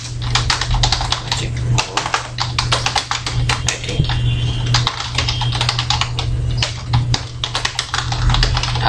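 Computer keyboard being typed on in rapid, continuous clicking keystrokes, close and fairly loud, with a low steady hum underneath and no talking.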